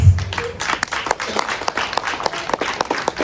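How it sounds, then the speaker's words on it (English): Audience applause at an award presentation for dance students, a sustained wash of many hands clapping close by, even and dense from start to finish. "they need a huge applause."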